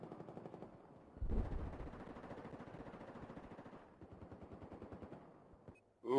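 Rapid automatic gunfire in a first-person shooter match on the Flood Zone map, sustained bursts of distant-sounding shots rattling on for several seconds, fairly quiet, with a brief pause and one louder thump at the end.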